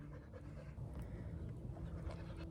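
A dog pants rapidly and steadily in an excited state, breathy rhythmic huffs running through the whole stretch at close range, inside a hilltop castle above a forest, with no talking.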